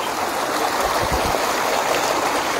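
River water flowing steadily over rocks beside a path near a temple, a continuous close rushing wash with a brief low gurgle partway through.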